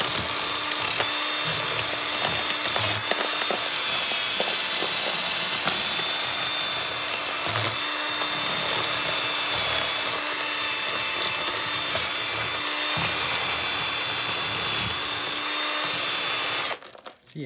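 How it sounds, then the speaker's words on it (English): A steady, high-pitched whine of a power drill raking out old mortar from a French stone wall, running continuously with faint irregular knocks underneath before stopping abruptly at the end. "I really thought that a drill bit in the stone like that wouldn't last long at all"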